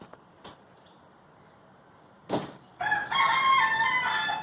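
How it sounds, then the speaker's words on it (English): A chicken clucks and squawks loudly and close by after a quiet stretch with a few soft knocks, its calls building into a sustained, agitated cackle. "Why that chicken keep making all that noise?"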